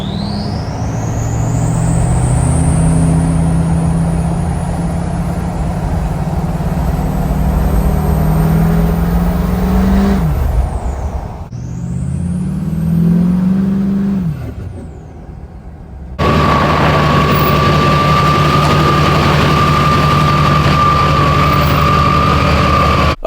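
A Duramax diesel truck fitted with a nine-blade turbo spools up loudly, its rising turbo whistle and engine roar building twice before cutting off, followed by a steady high-pitched whine over the running engine.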